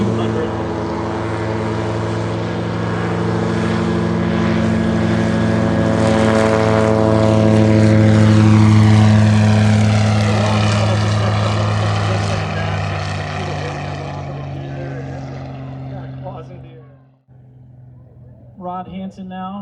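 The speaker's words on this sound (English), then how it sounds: "props turning" Steady, loud propeller-aircraft drone with strong low harmonics from a Cessna 185 at a STOL competition, engine at 3,400 RPM and props at 2,200, rising in pitch and then fading away to near quiet, with a brief voice near the end.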